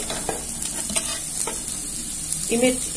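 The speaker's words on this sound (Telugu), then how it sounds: "ఇవన్నీ కొద్దిగా వేగాలి. వేగిన తర్వాత పక్కకు పెట్టుకుంటాను." Sliced onion, capsicum and green chillies fry in oil for a cheese pasta, a loud close crackling sizzle with quick rhythmic stirring scrapes and a brief sharper hiss near the end.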